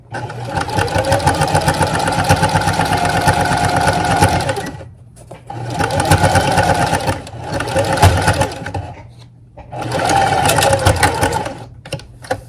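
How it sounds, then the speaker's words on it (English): A sewing machine stitches a turned fabric seam shut in three steady runs of rapid, loud mechanical whirring, separated by short pauses. "you take your time and just sew that shut"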